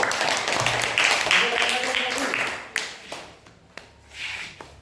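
Children clap their hands in a classroom coding lesson, a burst of dense, uneven clapping that fades after a few seconds, with an adult voice and scattered taps continuing underneath.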